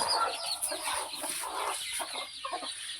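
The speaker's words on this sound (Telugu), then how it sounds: "టాప్ కట్టి రిచ్ వాడటం కోడిపిల్లలు అయితే ఉన్నాయండి" Bhimavaram hens and chicks clucking and peeping together, a busy cluster of short calls close by with no talking.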